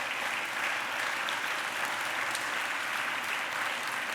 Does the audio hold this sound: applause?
yes